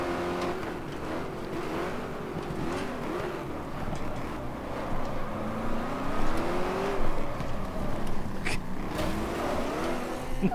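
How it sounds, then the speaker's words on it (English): A car engine in the racing game GT Legends drones steadily while driving, its pitch rising and falling through gear shifts as it accelerates, with no talk over it. "I like how we're basically driving this thing like it's a rally car"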